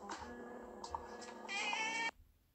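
A cat meows in a steady, fairly loud cry that rises and brightens near the end before cutting off, heard alone with no talking.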